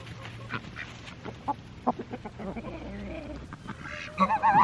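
Backyard chickens cluck and squawk in short, scattered bursts close by while being handed food scraps, with rustling and a few louder calls near the end; a person speaks briefly in the background.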